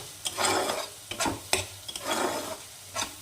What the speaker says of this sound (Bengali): এই সব কিছু দিয়ে মশলাটাকে আবারও একটু নেড়ে চেড়ে কষিয়ে নেব